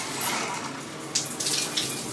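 Water flowing through a water pitcher filter, a continuous hissing stream with brief splashy bursts, close and moderately loud.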